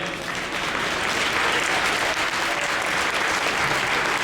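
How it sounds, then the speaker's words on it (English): Sustained audience applause for guests being welcomed at an indoor gathering, a dense, steady burst of clapping from many hands that holds at full strength for several seconds with no talk over it. "let's have a round of applause for our guest tonight."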